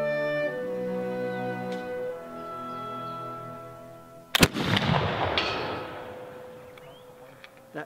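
Baker infantry rifle fired at a target 180 yards away: a single sharp, loud report cracks out midway, followed by a long rolling echo that decays over several seconds, with a steady tonal hum running beforehand.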